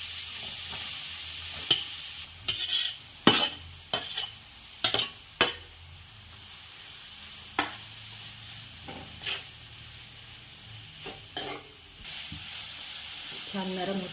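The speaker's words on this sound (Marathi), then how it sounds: "मी इथे तेलामध्ये भाजत आहे। तेल गरम झालेलं आहे" Carrots for gajar halwa roasting in hot oil in a pan, a low sizzle under scattered sharp scrapes and clinks of a spoon against the pan, uneven stirring close by, no talk.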